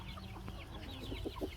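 Fifteen-day-old chicks in a chicken coop give soft, low clucks and faint peeping, with a few rounder clucks near the end over a steady low background hum.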